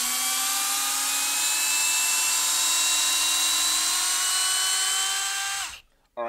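A Metabo 12V PowerMaxx cordless drill runs at full speed with a steady, loud, high-pitched motor whine that holds for almost six seconds, then cuts off abruptly and winds down to silence.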